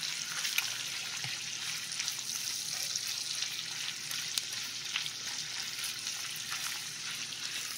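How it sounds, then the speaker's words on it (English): Dried beef browns in a stick of melted butter, giving a steady, moderately loud sizzle with small pops and the occasional scrape of stirring throughout. "Melt that stick of butter. Sorry about the lighting. And we're going to just brown that dried beef."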